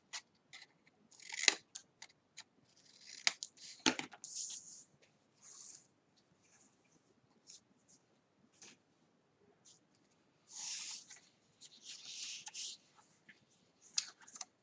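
Scissors snip bevelled ends on folded paper or card for a handmade keepsake box, a run of crisp close cuts in irregular bursts with quiet pauses between them.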